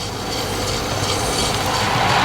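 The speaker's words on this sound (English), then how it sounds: "Now we have more of a 1970s, 80s train that probably would have been around in my era" A model railway train of the 1970s–80s era with car flaps and sleeper coaches runs along the track, producing a steady, close rumbling rattle and clatter that builds slightly in loudness, with no talking.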